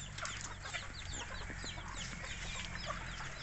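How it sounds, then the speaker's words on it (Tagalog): Native chickens and roosters cluck and call steadily in a busy farmyard, with many overlapping bird voices at close to moderate distance over a low background rumble. "Kaso puro tandang."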